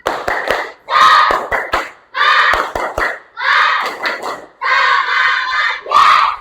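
Primary school class of children chanting a rhythmic spirit cheer in unison, loud shouted phrases punctuated by sharp group hand claps, in short bursts with brief pauses between.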